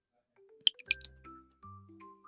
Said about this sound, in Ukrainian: Це тануть бурульки, які залишились після зими.